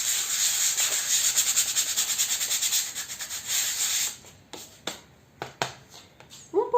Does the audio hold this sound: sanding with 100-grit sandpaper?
yes